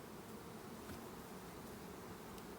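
Honeybees buzz softly from an opened hive during a one-month check after a package install, a faint, steady, even drone with no voices.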